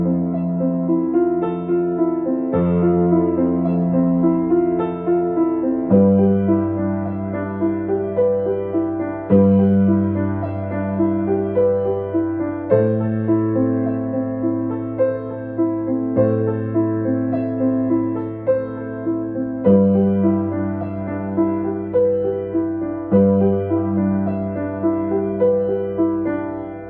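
A piano plays a theme high up the keyboard, a slow repeating arpeggio pattern of clear sustained notes that shifts harmony every few seconds, played alone with no talk.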